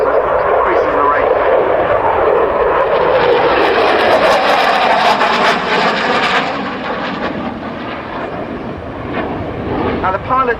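A Dutch F-16 fighter jet flying a display at the RIAT 2007 air show, its engine a loud, continuous roar that swells and then slowly recedes, with wind buffeting the microphone.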